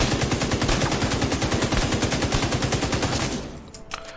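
A rifle fires rapid, evenly spaced shots on a shooting range in The Division 2. The loud burst runs continuously for about three seconds, then stops abruptly, leaving a quieter tail with a few faint clicks.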